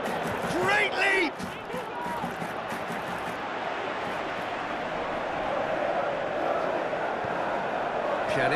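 Crowd cheering in the PES 2019 football video game during a Juventus versus Real Madrid match: a loud, continuous stadium roar with a commentator speaking over it at the start.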